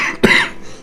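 A single sharp, close cough from a person with a persistent cough, one short burst followed by a brief rasping tail, heard alone.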